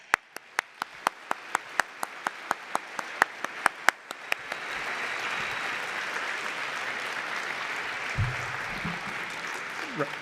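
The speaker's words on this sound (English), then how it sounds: "So I'd like to give him a huge round of applause" A conference audience at a large open-source education event breaks into sustained applause, starting with a few sharp, evenly spaced single claps before swelling into a dense, steady wash of clapping from a big crowd, with a low bump near the end.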